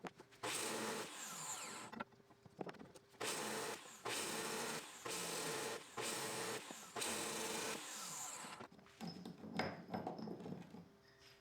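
A power drill with a cheap bit bores through wood and metal studs in repeated bursts of roughly a second each, loud and close with short pauses between runs, ending in rougher, scraping drilling.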